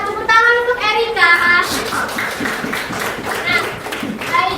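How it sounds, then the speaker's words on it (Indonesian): Students in an Indonesian classroom applaud a classmate, a dense patter of claps mixed with children's voices and chatter throughout. "Tepuk tangan untuk Erika"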